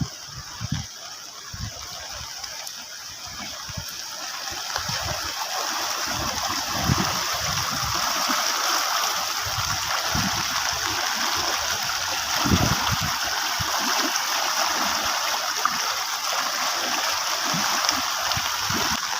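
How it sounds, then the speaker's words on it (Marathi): Forceful rainwater rushes over a road during a heavy Konkan downpour, a steady, loud broadband roar that persists throughout with no talking. "आणि इकडच्या बाजू बघा पाणी किती फोर्स आहे."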